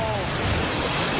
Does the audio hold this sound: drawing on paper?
no